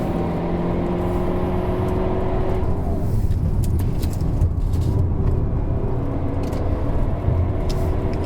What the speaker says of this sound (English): I like the way the exhaust sounds like a jet plane